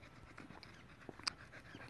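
A dog pants quietly in a steady, quick rhythm of breathy puffs while being taken out on a walk. The sound is faint and close, with no talking.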